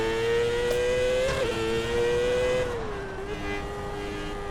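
Dirt oval race car engine screaming at high revs in first gear, a loud steady whine that holds pitch, dips briefly, then eases slightly lower near the end.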